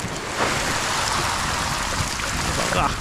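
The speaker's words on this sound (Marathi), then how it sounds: "पाऊस" Rain falls steadily near a muddy waterside fishing spot, a dense continuous wash of hiss and patter with no voices heard, blending with flowing water.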